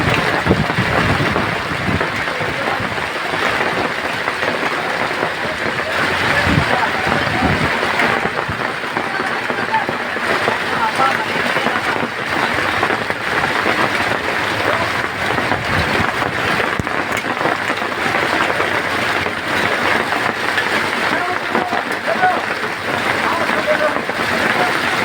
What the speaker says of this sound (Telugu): మొత్తం మంచురాళ్ళ వర్షమే కురుస్తుంది. విస్తృతంగా మంచురాళ్ళే కురుస్తున్నాయి.